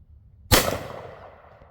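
A single sharp gunshot from a Rossi Tuffy .45 Long Colt survival gun, a loud close crack followed by a short decaying echo, with no other sounds around it.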